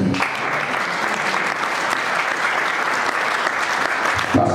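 A church congregation applauds steadily and fairly loudly, a dense sustained wash of many hands clapping that continues without pause for several seconds.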